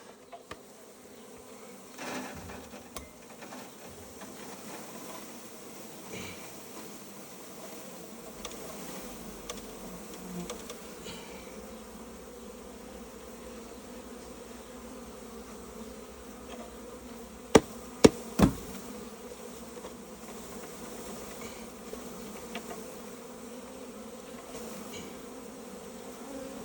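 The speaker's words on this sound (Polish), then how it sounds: "Bardzo dużo pszczoły." A dense, constant buzzing of many honeybees fills the air nearby as a bee package is installed in a hive, with a few sharp knocks and taps of wood breaking through.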